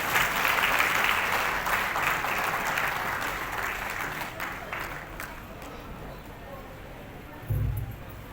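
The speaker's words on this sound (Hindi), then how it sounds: "तालियों से स्वागत करेंगे।" Applause from a seated crowd at a Rani Durgavati commemoration ceremony in Rajnandgaon, clapping that starts full and slowly thins out, with a brief low thump near the end.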